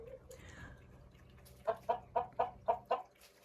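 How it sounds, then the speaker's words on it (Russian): A rooster in a polycarbonate greenhouse clucks six times in a steady, evenly spaced run, fairly near, over a faint low background hum. "Очень комфортно здесь содержать петушков."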